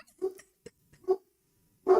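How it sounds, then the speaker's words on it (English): A dog barks three times in short, loud bursts, set off by someone knocking at a door. A single dull knock sounds between the first two barks. "Not me knocking activates Scooby barking"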